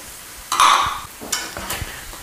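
Shallots, garlic and fresh basil tossed in a hot pan, giving a steady close sizzle with a couple of louder stirring scrapes and rustles as the pieces shift.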